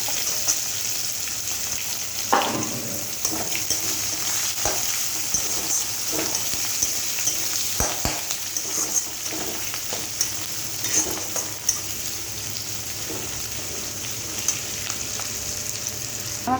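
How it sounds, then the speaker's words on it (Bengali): Chopped onion frying in a kadai with whole garam masala, bay leaf and cumin seed, a dense continuous sizzle close by, broken by repeated scraping and knocking of the stirring spoon against the pan. "একটু নাড়াচাড়া করে দেবো। এর মধ্যে দিয়ে দেবো পেঁয়াজ কুচি।"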